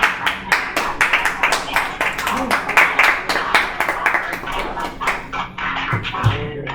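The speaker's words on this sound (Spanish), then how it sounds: "Denle un aplauso al Señor" A church congregation claps in a brisk, rhythmic unison beat, loud and close, with a faint voice briefly underneath before the clapping tapers off.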